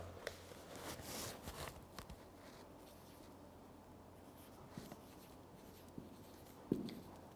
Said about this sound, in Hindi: डेफिनेशन मैं ये लिख देता हूँ